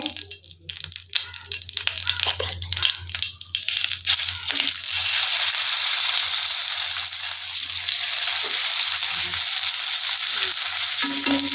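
Prawns laid into a hot pan for Kerala prawns fry, first scattered handling clatter and scraping, then a loud, continuous close-up sizzle that holds steady to the end.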